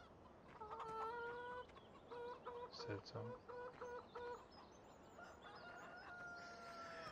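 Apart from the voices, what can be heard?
chickens clucking in video game The Vally farm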